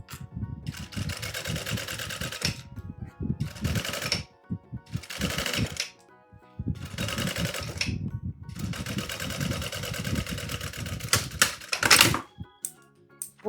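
Sewing machine stitching synthetic fabric for a child's car organizer in several short bursts separated by silent gaps, close and clattering.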